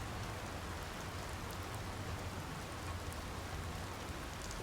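Steady rain falling in the video game Secret Files 2, on the rainy side of a bridge: a faint, even hiss of drops on surfaces, continuous and unbroken throughout with no speech.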